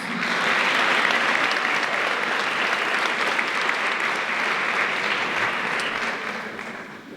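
A crowd applauds at a Class of 2024 event, a sustained, even roar of clapping from many people that holds steady and fades slightly near the end.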